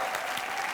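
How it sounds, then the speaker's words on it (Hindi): Steady applause from an audience, dense clapping that fills the whole short stretch at an even level. "जोरदार तालियां"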